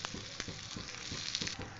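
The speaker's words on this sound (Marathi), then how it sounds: "त्यानंतर साइडनी आणि या होल मध्ये आपण तेल सोडूया, म्हणजे छान थालीपीठ भाजल्या जातील।" Thalipeeth, a Maharashtrian bhajani flatbread, fries in oil poured around its edges and into holes in the dough on a pan, giving a steady close crackling sizzle with small pops throughout.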